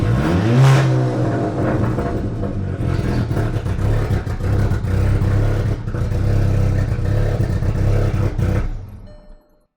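A 2012 VW GTI's turbocharged 2.0L TSI engine revs hard and loud through a custom exhaust, running poorly and needing a tune, rising and holding at a high drone for several seconds before cutting off abruptly near the end.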